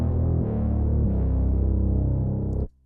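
Deep, throbbing bass line from a beat mix, sustained and loud with shifting low notes, playing alone for nearly three seconds before cutting off abruptly.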